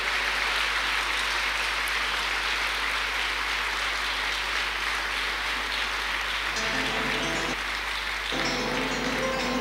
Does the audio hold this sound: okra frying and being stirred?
no